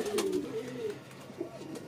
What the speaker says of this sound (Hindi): ये कबूतर है भाई, लास्ट कबूतर है